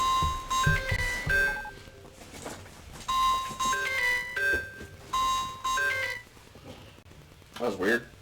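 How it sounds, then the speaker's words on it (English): An alarm chime in the Rollercoaster Tycoon game sounds in repeated bursts of bright melodic beeping, separated by short pauses, while someone talks between and over the tones. "Where's my alarm going off?"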